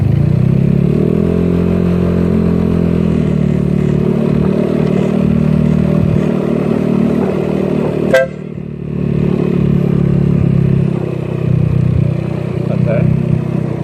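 A GY6 scooter engine runs with the throttle opened a little, giving a loud, steady drone that shifts slightly in pitch, and a brief sharp clatter comes midway.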